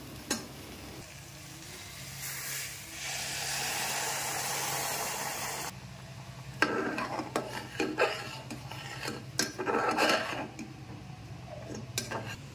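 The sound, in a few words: hot water poured into cooking dalma in a pan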